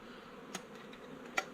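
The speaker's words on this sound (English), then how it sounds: "These bees are not aggressive at all." Honey bees from a storm-felled tree hive buzz softly and steadily nearby, with a couple of brief taps.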